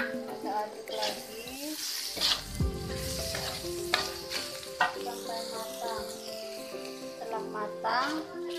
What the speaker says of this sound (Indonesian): Kita masukkan daun bawang yang sudah diiris, kita aduk lagi.